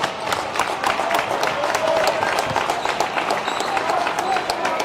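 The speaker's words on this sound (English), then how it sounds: "So well-deserved round of applause for the Lady Tornadoes of West" A basketball crowd applauds the Lady Tornadoes in a school gym during a girls' game, steady clapping and cheering under a commentator's ongoing talk.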